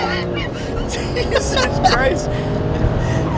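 BMW 335i accelerating hard as its faulty automatic transmission shifts and slips, the engine droning and flaring in pitch under a brief exclamation from someone inside the car.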